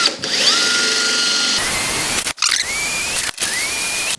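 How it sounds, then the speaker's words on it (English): Power drill boring holes during installation of an inner trunk and rear bars on a Willys build, with rising whine as the motor spins up in repeated bursts separated by short pauses, loud and close. "we're just going to drill all of our holes"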